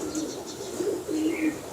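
A Jaunsre pigeon held in the hand gives soft, close, repeated low coos, rising and falling in a short rolling series.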